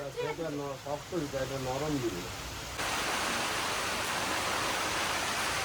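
Heavy rain falls steadily as a broad, constant hiss. A voice talks over the start, and then the downpour alone fills the rest and grows slightly louder.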